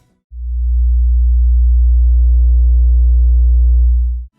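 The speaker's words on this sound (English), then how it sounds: "Here's a 60 hertz sine wave." A steady 60 Hz sine wave test tone plays alone, a deep, loud, continuous low hum lasting about four seconds, with a faint overtone buzz creeping in partway through before it cuts off.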